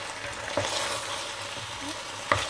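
A spoon stirs carbonade flamande, a beef stew with mustard, in a pot: a steady low simmering hiss with soft scraping and two sharper clunks against the pot, close and moderately quiet.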